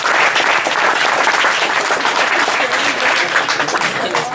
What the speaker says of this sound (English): Huge round of applause for Adrian Mouat, please.